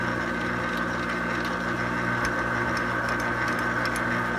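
A metal lathe turning a drill-head spindle pulley hums steadily with a constant motor drone and faint ticking and rattling throughout, no voices.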